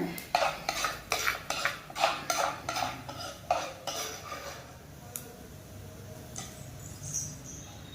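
Spoon stirring sautéed onion, chilli and ginger into pearl millet paniyaram batter in a bowl, a run of rhythmic scraping clinks for about four seconds, then quieter sparse taps, close and soft with no talking.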